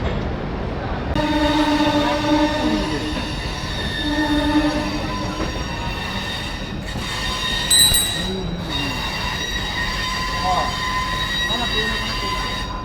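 A moving train, the Chambal Express from Howrah to Agra Cantt, rumbles steadily with rattling wheels and occasional high squeals from the rails, while a person talks intermittently over the noise.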